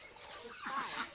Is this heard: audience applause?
no